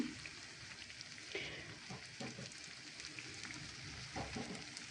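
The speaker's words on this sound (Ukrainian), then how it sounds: "Так, перша партія в нас вже смажиться." Steady crackling sizzle of potato pastries frying in hot oil over medium heat, a dense continuous spatter with small pops, close and even throughout.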